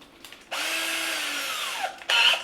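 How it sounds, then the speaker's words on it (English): Power drill boring a mounting hole for a flight computer bracket, one sustained whirring run of about a second and a half, close and fairly loud, ending in a brief higher burst. "These red dots are where I'm going to drill holes"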